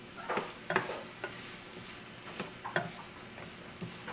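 Squash simmers down in a green coconut curry while a spoon stirs the pot, with soft sizzling under a series of faint, irregular scraping clicks.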